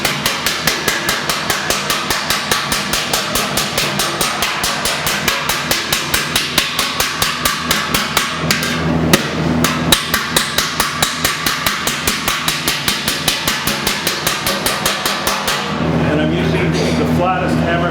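Flat-faced hammer striking metal on a welded piece during metalworking, a steady fast run of loud, ringing blows close by for most of the stretch, briefly pausing, then giving way to a sustained tone near the end.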